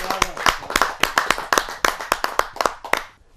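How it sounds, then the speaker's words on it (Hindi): Steady rhythmic clapping from a Hindi poetry gathering audience, loud and close, with evenly spaced claps that continue for a few seconds before fading out. "जोरदार ताली के साथ आमंत्रित करता हूं"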